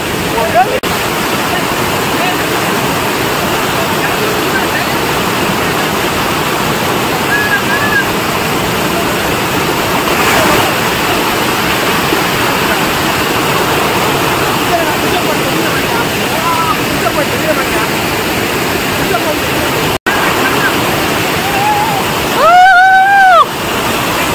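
Keradi waterfall roars as a loud, steady rush of falling water that fills the whole scene at close range, with people's voices partly audible under it and a brief whine near the end.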